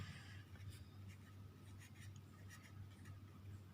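Chalk or marker scratches across a classroom board in short, quiet strokes, a few distinct scrapes over a low background hum, with no talking.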